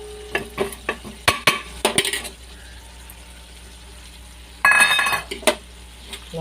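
Ground fenugreek and roasted mustard are stirred into a chili pickle, with a run of sharp clinks and scrapes of a spoon against a bowl, then a quiet pause and a short burst of scraping again.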